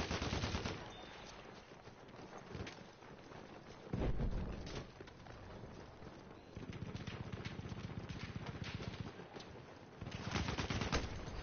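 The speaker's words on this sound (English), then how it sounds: "Oh, he got me with a shotgun." A Battlefield firefight: dense, continuous machine-gun fire and explosions with heavier blasts standing out, loud and busy throughout.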